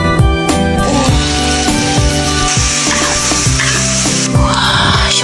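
Garlic and cooking wine sizzle loudly in a covered wok, a steady close frying hiss with bursts of crackle and a few knocks of a utensil or lid.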